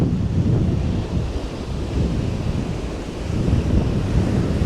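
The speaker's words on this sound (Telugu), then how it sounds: "అంత విపరీతంగా గాలి వేస్తుంది ఇక్కడ." Strong wind and crashing waves on a deserted beach at night make a continuous, loud roar with rolling surges and microphone buffeting, and no voices.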